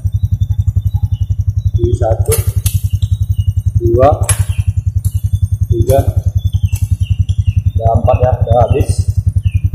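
A Honda Revo Fi motorcycle, still new, idles steadily with a close, even low-frequency putter throughout, with gear engaged; someone talks briefly over it between short pauses.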